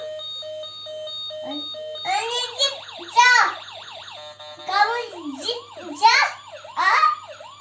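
Someone talks and imitates a toy police car's wailing siren with rising and falling whoops, repeated several times over a faint steady background hum.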